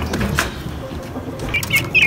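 Pigeons flap their wings as they come out of a pet enclosure, a few soft flurries of feathered wingbeats heard close by against low background rumble.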